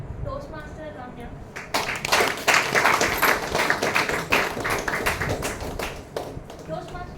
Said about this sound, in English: let's join your hands to welcome Toastmaster Ramya